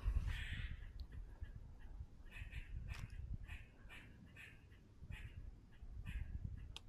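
Repeated short, nasal chirping calls from a squirrel sound in a steady rhythm, somewhat duck-like, over low outdoor rumble, fairly distant.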